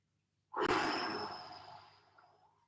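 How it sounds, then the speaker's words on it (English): A single long, deep breath during a home recovery stretching workout, starting abruptly and rushing loud before slowly fading over about two seconds, close and alone without talk. "Taking a big deep breath in."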